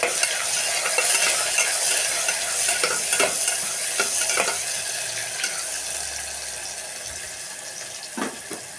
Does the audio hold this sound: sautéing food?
yes